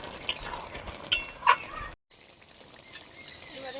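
Fresh rohu fish pieces with slit green chillies going into a hot pan, a few sharp crackles and pops over a soft sizzle that drops away, then a quieter low frying hiss.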